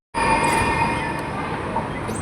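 A metro train in motion, heard from on board as a steady, close rumble with a faint high whine that starts abruptly and holds without letup.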